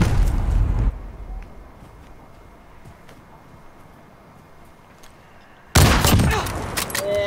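Gunfire in the shooter game Call of Duty: Modern Warfare, a loud burst of shots at the start, then quieter scattered shots, and a second dense volley near the end.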